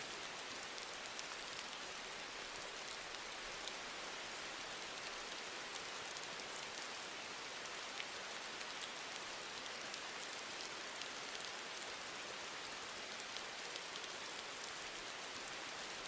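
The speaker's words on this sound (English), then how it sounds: "the rain sound is too loud or too quiet" Steady rain falling in the background of a quiet study session, a soft, even hiss of drops on a surface that continues without change or pause and with no one speaking.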